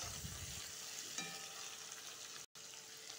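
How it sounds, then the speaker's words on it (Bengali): Potatoes fry in a pan with onion and tomato, making a soft, even sizzle that runs without a break, apart from a brief gap near the end, with a faint stir near the start. "টমেটোর সাথে আবার ভেজে নিব আলুটা"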